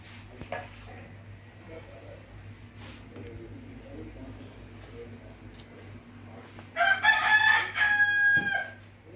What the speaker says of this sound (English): Ah, those darn chickens.